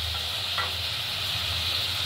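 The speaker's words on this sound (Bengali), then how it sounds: "এবার এটা একটু ফ্রাই হতে দিতে হবে।" Pomfret fish frying in a kadai with slit green chillies and spices, a steady dense sizzle that holds loud and even throughout, close up, with no talk.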